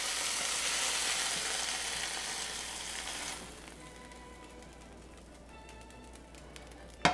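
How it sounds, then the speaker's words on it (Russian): Pieces of meat fry over high heat in a hot pan, giving a loud, close hiss of sizzling that drops sharply to a quieter crackle partway through, ending with a brief clatter. "И на этой же сковороде сразу же начинаю обжаривать вторую партию"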